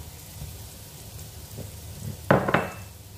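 Spices including yellow turmeric root being sautéed in a hot pan, a soft sizzle rising into a brief loud crackling burst near the end, with no voices.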